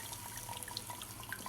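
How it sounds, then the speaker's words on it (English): A blended spiced rice drink is poured through a sieve into a bowl, making soft, close liquid trickling and dripping for a brief moment with no talk. "So I'm coming to sieve it into a bowl."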